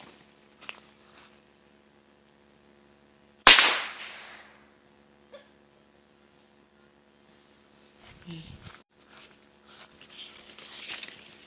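A homemade candle-wax gun fires one sharp, loud crack at a tree outdoors. The shot decays quickly into near silence, and faint rustling and shuffling follow a few seconds later.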